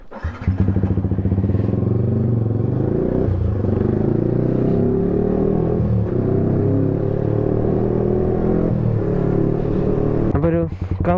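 A Yamaha R15 motorcycle fitted with an Akrapovic exhaust idles and revs loudly up close, its deep throaty engine rumble steady for about ten seconds before a sharp burst near the end.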